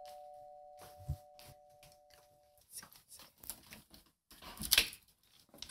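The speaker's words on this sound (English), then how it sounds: "I hear a doorbell." A doorbell rings sharply once near the end, after a stretch of quiet clicks and rustling indoor sounds.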